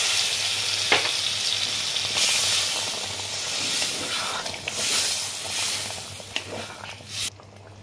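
Pointed gourd korma with fried spices hisses in a pan as water from a cashew and poppy seed paste bowl is poured in, giving a loud, steady sizzle with a few sharp pops and clinks and no talking.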